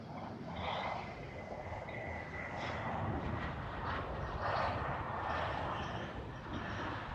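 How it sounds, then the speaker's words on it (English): A 15-year-old KLM Boeing 737 at Amsterdam Schiphol Airport gives a steady broad jet engine roar, moderately loud and constant throughout, with faint bird chirps over it. "next up KLM flight from Glasgow, the 737, 15-year-old one"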